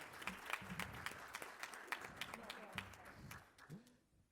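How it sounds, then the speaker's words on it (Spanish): A small audience gives a brief round of applause at a gathering, scattered distinct claps with a person speaking over them before the clapping tapers off. "Un aplauso para ella."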